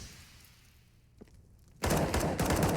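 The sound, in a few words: USP pistol gunfire in Counter-Strike: Global Offensive video game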